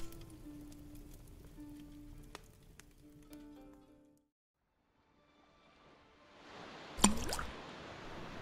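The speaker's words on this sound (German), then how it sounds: "Der Stein traf mit einem heftigen Spritzen auf die Meeresoberfläche." A stone strikes sea water with a heavy splash as an audiobook sound effect. Soft music fades into near silence, then a rising watery rush leads to one sharp, close splash that settles into spray.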